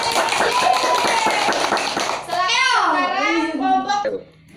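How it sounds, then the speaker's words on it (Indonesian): Grade 5 pupils in a classroom clap for a classmate, a brief patter of small hands mixed with children's chatter, fading as a voice carries on over it. "Tepuk tangan untuk Mas Alvin."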